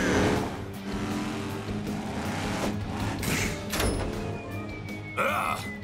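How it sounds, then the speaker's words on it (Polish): Monster truck launching off a ramp at an arena competition, a loud continuous roaring engine with thumps and bursts, followed by a sharp skid-like squeal near the end. "Latający monster truck!"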